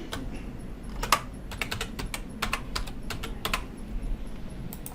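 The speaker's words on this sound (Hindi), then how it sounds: "पासवर्ड एंटर करते हैं अपने यूज़र नेम का और साइन इन करते हैं।" Password typed on a computer keyboard, a string of close, crisp key clicks in irregular bursts with short pauses, over a low background hum and no talking.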